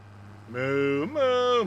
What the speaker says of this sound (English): Moo, moo, moo.